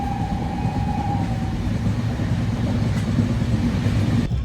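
A passenger train runs from Varanasi to Prayagraj with a loud, steady low rumble and rattle heard from on board, continuous throughout without speech.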